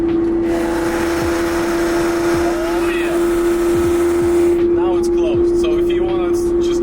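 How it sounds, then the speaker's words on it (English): A roadster's engine and exhaust drone steadily inside the moving car with the rear window down, with occasional chirps and brief bursts of higher backfire noise over the constant tone. "if you want to just hear your exhaust backfiring and your engine sound, you just open the window back"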